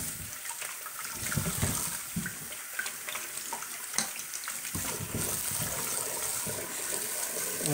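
Five potatoes are washed under a running kitchen tap: a steady, fairly quiet stream of water with irregular splashes and bumps as the potatoes are handled, with no talk.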